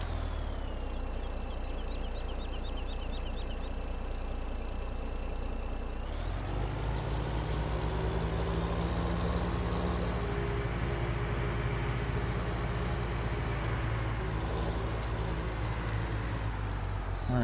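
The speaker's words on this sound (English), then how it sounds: "this skidder will go just about anywhere" A heavy forestry skidder engine in Farming Simulator 17 drones steadily and loudly, its pitch shifting and the load rising partway through as the machine pushes on, with no talk over it.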